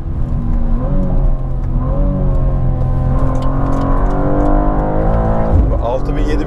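A 2023 BMW M2 G87 engine revs high toward its 7200 rpm redline, a loud, rising engine note climbing in pitch in several pulls, heard from inside the car while people talk over it.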